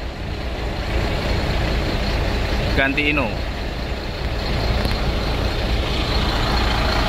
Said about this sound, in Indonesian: yang berisik atau agak garing suaranya Golden Dragon ini ya